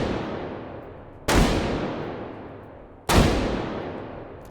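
A .50 Browning machine gun fires in Hot Dogs, Horseshoes & Hand Grenades: two heavy, booming single shots about two seconds apart, each trailing off in a long reverberant decay.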